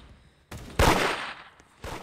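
Gunfire in a Halloween-themed video game: a sharp burst of shots at mid-clip with a lingering tail, then another shot near the end, loud against a quiet background.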